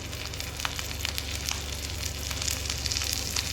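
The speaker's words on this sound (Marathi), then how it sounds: "थोडंसं या पद्धतीने दोन्ही साईडून आपण त्याला फ्राय करून घेऊ." A dabeli pav bun coated in sev fries in a pan, turned to cook on both sides, giving a steady, close sizzle with small crackling pops throughout.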